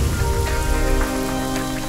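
Steady rain falling on a surface, a dense, even patter of drops with a low rumbling undertone, continuous and close.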